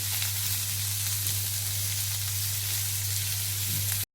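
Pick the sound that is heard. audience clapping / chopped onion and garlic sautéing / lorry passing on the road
chopped onion and garlic sautéing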